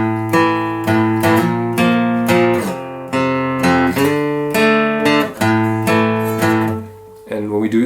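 Electric or acoustic guitar plays the chord riff from a song, strummed chords with sliding shapes ringing out clearly and steadily, alone, with a brief pause near the end before a final chord.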